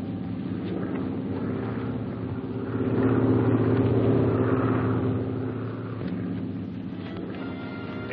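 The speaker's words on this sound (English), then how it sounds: "Plane is circling to land." A distant airplane engine drones steadily as it circles to land, swelling louder for a few seconds in the middle before fading back to a low hum.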